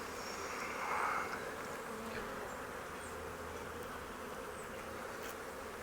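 Bees buzz steadily and softly around a hive, a dense continuous hum with no voices.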